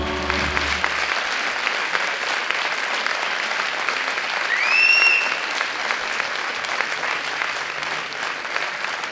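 Sustained, hearty applause from a theatre audience closing a musical show about a corsair king, steady dense clapping filling the hall, with a brief whistle near the middle.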